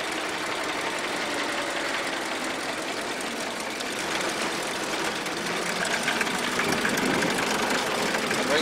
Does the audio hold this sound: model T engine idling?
yes